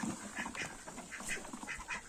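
Runner ducks in an enclosure quack repeatedly in quick, nasal bursts, several birds calling at once from close by.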